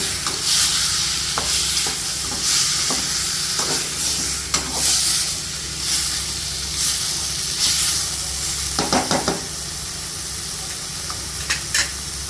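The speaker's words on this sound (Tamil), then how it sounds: "நல்லா கொஞ்சம் நேரம் இப்படியே அந்த எண்ணெயிலேயே வதங்கணும்" Chicken gravy sautés in hot oil while a spoon stirs and scrapes the pan, giving a steady close sizzle broken by regular stirring clicks, with no talking.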